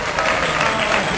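Applause and clapping from a small group after an eating challenge in Lucknow, a short, dense, continuous patter with no speech over it.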